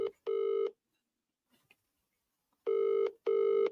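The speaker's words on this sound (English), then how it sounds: "I'm going to phone you now." A telephone signal sounds as a call is placed, with a pair of short electronic tones near the start and another pair near the end, separated by near silence.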